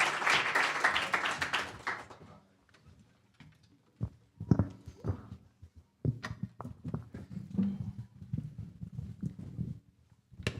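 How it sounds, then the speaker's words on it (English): Audience applause after a live performance at a radio station show, a loud burst of clapping for about two seconds that fades out, followed by scattered claps, knocks and handling noises. "Give them another round of applause, guys"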